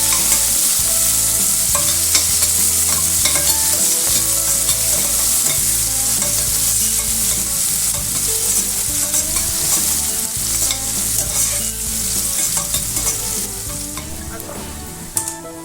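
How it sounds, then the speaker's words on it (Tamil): Chopped onions fry loudly in a pan for a Kumbakonam-style kadappa, a steady bright sizzle with frequent scraping and clinking of a spoon as they are stirred throughout, close up and with no talking. "அந்த வெங்காயம் போட்டுக்கோங்க. வெங்காயம் நல்லா வணங்கட்டும்."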